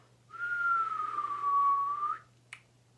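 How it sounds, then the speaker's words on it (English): A single clear whistled note held for about two seconds with a gently falling pitch, followed by a short snap. "Yes, I can whistle"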